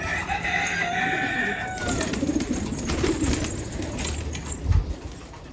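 Pet pigeons at a home loft make bird calls, a lively mix of coos, clucks and chirps that fills the space, with a louder flutter or thump near the end and no speech.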